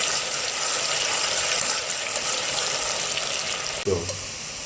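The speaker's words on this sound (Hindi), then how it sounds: "अब इसमें प्याज डाल देते हैं। और प्याज को भी लाइट ब्राउन करना है।" Onions fry to light brown in a pan with browned cumin seeds for zeera aloo, giving off a loud, steady, close sizzle. A brief clunk of utensil against the pan comes near the end.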